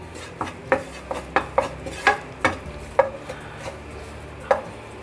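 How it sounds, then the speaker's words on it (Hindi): Spoon scraping and knocking against a pan while flour is stirred and roasted over a low flame for white sauce, about a dozen sharp, irregular taps and scrapes, close and moderately quiet. "लगातार चलाते हुए भूनिएगा इसको और बिल्कुल सिम गैस पर।"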